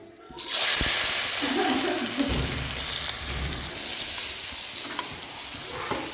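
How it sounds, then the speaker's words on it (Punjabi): Grated carrots hit hot desi ghee in a pan for gajrela, bursting into a loud, dense sizzle that holds steady with a few utensil knocks and stirs close by. "ਇੱਧਰ ਆਪਾਂ ਲੈ ਲਿਆ ਦੇਸੀ ਘਿਓ ਦੇਸੀ ਘਿਓ 'ਚ ਪਾਵਾਂਗੇ ਗਾਜਰਾਂ"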